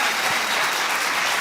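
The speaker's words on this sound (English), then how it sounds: "So that you hear the applause on that one." An audience breaks into applause, a dense and steady wash of clapping that lasts a little over a second with no voices over it.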